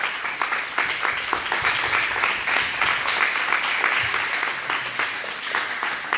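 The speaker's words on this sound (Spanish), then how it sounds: "Dale un aplauso al Señor" A church congregation at a sermon breaks into loud, sustained applause, many hands clapping densely and steadily from start to finish with no pause.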